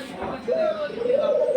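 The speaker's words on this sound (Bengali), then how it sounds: "এটা আমার কিং কবুতর।" A Sirazi king pigeon, a male of French breed stock, gives a drawn-out, rising coo close by, over soft background noise.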